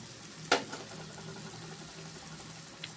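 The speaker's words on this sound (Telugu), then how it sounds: "ఇది కూడా బాగా ఫ్రై అయ్యేదాకా మనం కలుపుకుందాం" Farm chicken frying in a pan, a faint steady sizzle with a sharp utensil knock early on and a soft clink near the end, quiet and close, no talk.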